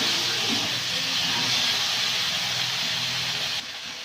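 Susni shak greens with salt and cumin paste sizzle in a hot pan in a village kitchen, giving a loud, steady, close frying hiss that drops off slightly just before the end.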